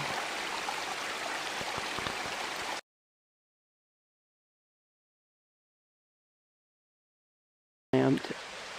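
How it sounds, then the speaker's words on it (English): Steady broadband rush of a waterfall and creek on a mountain trail, close and loud, cut off abruptly by several seconds of total silence before resuming. "This is one waterfall."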